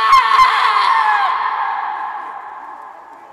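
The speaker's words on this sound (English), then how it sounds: "It was the cry of women" Women cry out offstage during a stage performance of Shakespeare's Macbeth: a loud, shrill chorus of wailing voices that starts sharply and fades away over a few seconds, with no speech.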